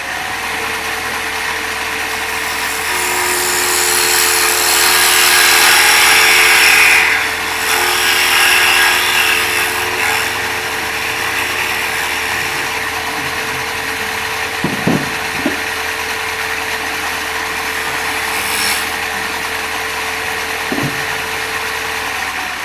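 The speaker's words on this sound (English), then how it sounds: "Then we'll take a parting tool," A wood lathe spins a workpiece while a parting tool cuts a tenon on one end during a woodturning demonstration, giving a steady close motor hum with a rough scraping hiss and a few sharp knocks.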